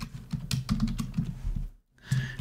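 Code is typed on a computer keyboard in a busy run of close, crisp key clicks, then a brief silence and a few more keystrokes.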